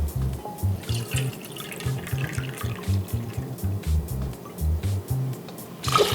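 Concentrated pickle brine being poured into a container for pickled jalapeño peppers, a close, steady liquid stream with gurgling pulses running for several seconds, with no speech over it.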